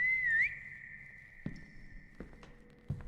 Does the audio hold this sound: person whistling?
yes